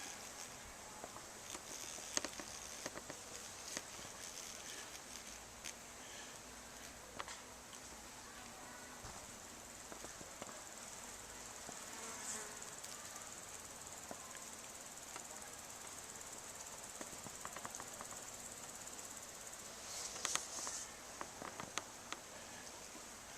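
Hornets and bees buzz around beehives with a tray of hornet food set out in front, a faint, steady high insect drone running throughout with scattered soft ticks and brief louder passes.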